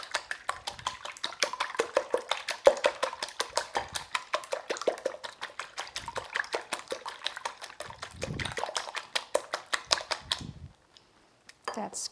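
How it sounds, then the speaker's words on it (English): A whisk beats ingredients in a bowl for a banana cream pie, producing rapid, regular clinking strokes at close range that continue steadily before stopping near the end, with a few faint background sounds. "We are just going to give these a real quick whisk together."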